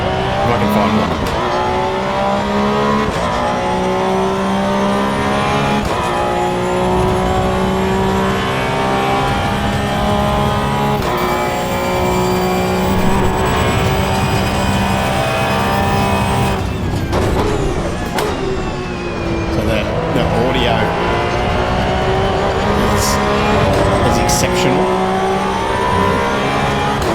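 A race car laps Bathurst in Assetto Corsa Evo, its engine holding a loud, steady high-pitched drone with rising and falling revs through gear changes, a sharp shift and brief lift near the middle, then climbing again with some tire noise.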